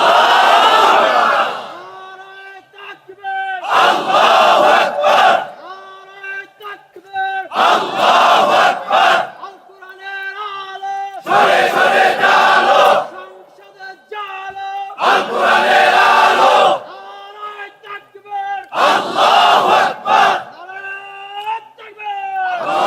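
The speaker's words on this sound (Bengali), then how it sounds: "মিয়া দাও তো তাকবীরের মতো একটা তাকবীর" Large crowd at a Bangladeshi religious sermon roaring the takbir in repeated loud bursts of collective shouting, about six surges separated by short gaps in which a preacher speaks.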